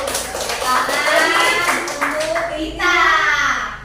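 Group of people clapping their hands at a school gathering in Indonesia, quick taps mixed with loud voices calling out together.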